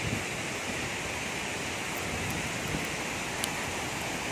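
Tinuy-an Falls at Bislig, Surigao del Sur pours in a steady, dense broadband roar of falling water, constant and unbroken throughout with no voices.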